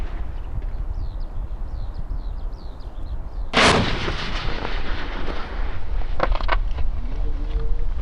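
A replica Joseon-era Singijeon fire-arrow rocket is ignited on its launcher, and its gunpowder tube explodes before lifting off, with a sudden loud blast at mid-clip followed by roaring, crackling burn and scattered pops.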